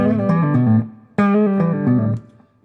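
Three blues licks on electric guitar run together as one phrase, two bursts of bright picked notes with sustained harmonics, the second starting with a sharp attack after a brief dip; no talk.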